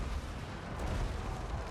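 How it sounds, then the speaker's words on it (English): Cannon fire in the battle game Total War Warhammer 3 rumbles as a dense, muffled barrage of low booms blending into a continuous roar of distant battlefield noise. "Cannon fire raining in."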